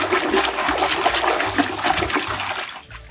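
Running water splashes steadily over a toy animal being washed, a continuous gushing stream that stays loud throughout, with no talking.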